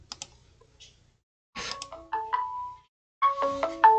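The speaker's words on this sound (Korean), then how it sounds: "자꾸 전화가 와서" Incoming-call ringtone on a phone, short electronic melodic tones in bursts separated by quiet gaps, a few faint clicks at the start, no talk.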